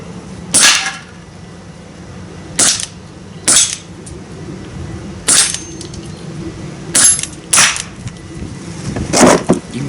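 A Daisy Powerline 408 air pistol fires six sharp, snappy shots spaced irregularly over several seconds, each a crisp crack standing out clearly against quiet background.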